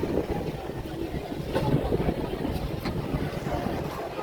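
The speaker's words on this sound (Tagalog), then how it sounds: "Ang lakas ng hangin." Strong wind at a hilltop glass walkway in Batangas, Philippines buffets the microphone in a steady, loud roar with gusty surges, filling the whole stretch with low rumbling turbulence.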